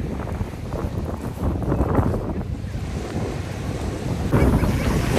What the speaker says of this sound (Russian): Морюшку тут сильный ветер, не знаю, как я смогу.